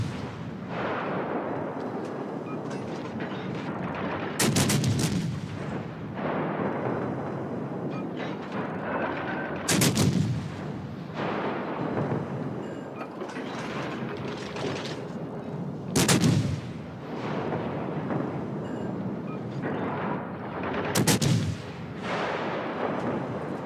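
Battleship main guns boom in a naval combat video game: four heavy, sharp blasts spaced roughly five to six seconds apart over a continuous rumbling battle din, loud and close.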